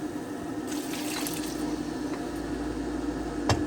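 Water poured into a pan holding leftover ginger, garlic and chili paste, a steady liquid rush and gurgle with a soft splashy knock near the end.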